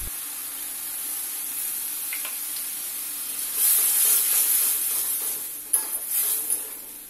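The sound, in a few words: pouring mustard paste water into sizzling pan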